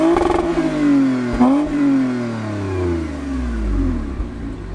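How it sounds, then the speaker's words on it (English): A 2020 Toyota Avalon TRD revs hard through its TRD sports exhaust, rising and falling in pitch with a deep, throaty burble, close by and alone. "Yep, that is proper TRD exhaust."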